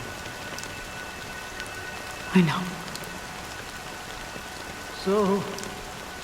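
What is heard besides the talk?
rain falling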